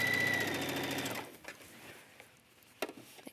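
A sewing machine stitching stretched ribbing around a curve on a men's half-zip garment, a fast steady loud whirring that stops after about a second, followed by quiet handling clicks.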